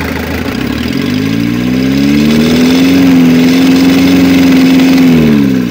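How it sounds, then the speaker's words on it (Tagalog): An Isuzu 4JG2 diesel engine runs loudly close by with a misfire and vibration, its steady drone rising slightly in pitch and then settling, with a rough, uneven throb underneath. "palyado yung makina at vibrate"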